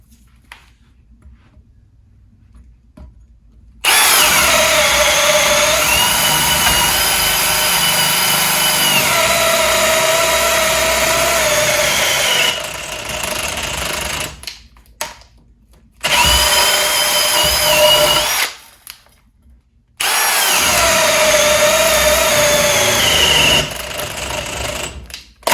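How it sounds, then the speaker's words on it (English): A Milwaukee Fuel hammer drill bores with a 1-inch Diablo spade bit, a loud, steady whirring run that stops briefly twice and restarts, with pitch sagging under load. "got a 1-inch Diablo spade bit here, going to use the same bit in both drills"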